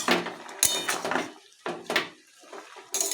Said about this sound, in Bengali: শাকটা দিয়ে ভালো করে নাড়াচাড়া আবার দিচ্ছি